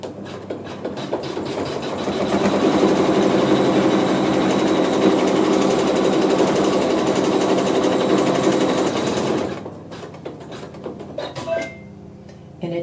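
An embroidery machine stitches down an applique in a loud, steady mechanical whir that runs for about nine seconds, then stops, leaving faint clicks and handling noise.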